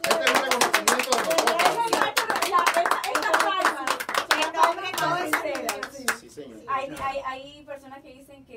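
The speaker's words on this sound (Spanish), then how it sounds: "vamos a darle un aplauso" An audience claps at a Spanish-language radio and music show, dense rapid applause filling most of the stretch, with voices and cheering mixed in before the clapping thins out and talk takes over.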